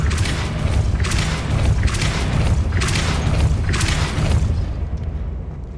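Depulso spell cast in Hogwarts Legacy, a series of deep booming, rumbling blasts in a steady rhythm, loud and full, fading into quiet at the end.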